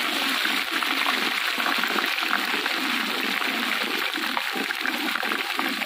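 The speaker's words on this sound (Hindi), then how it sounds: "थोड़ा सा पानी डाल के तो इसके ऊपर ढक्कन दे देते हैं" Water is poured steadily into a pot of chana rice being cooked, a continuous splashing, gushing stream that stays constant and fairly loud throughout.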